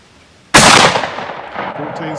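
A Mossberg 835 shotgun fires a single slug in one loud, sharp blast close by, followed by a long echoing decay outdoors, with no talking.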